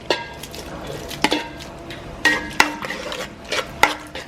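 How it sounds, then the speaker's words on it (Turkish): Tomato paste is sautéed in a pot over charcoal in a restaurant kitchen, with a soft sizzle under repeated metallic scrapes and clinks of a utensil against the pot. "Şu anda da salçasını kavuruyoruz."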